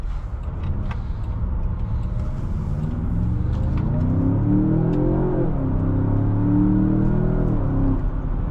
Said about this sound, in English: V8s just sound so good.